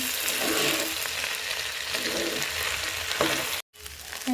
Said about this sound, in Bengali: দিয়ে আমি এটা ভাজা ভাজা করে নিচ্ছি চালটা ডালটা।